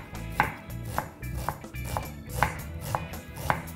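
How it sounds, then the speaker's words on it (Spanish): A knife cuts chicken thinly on a board, giving a steady series of crisp, close chopping taps roughly every half second, seven or so in all, over a faint background hum. "Yo voy a cortar finito para que sea más agradable comer."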